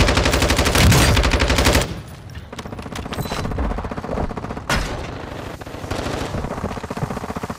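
Loud, sustained automatic fire from an M4 rifle in a Call of Duty match, with long rattling bursts, brief gaps and overlapping distant shots and impacts.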